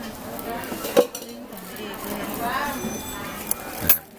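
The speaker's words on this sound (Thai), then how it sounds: "อย่าคนให้มันแตกแตกแล้วมันไม่อร่อย คนพอเบาๆครับ" A spoon gently stirring a soft-boiled egg in coffee at a morning market, light clinks of metal against a cup with a couple of sharper taps, under quiet background chatter.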